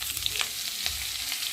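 Sliced ridge gourd fries in hot oil with ginger, giving a soft, steady sizzle with small crackles over a brief moment.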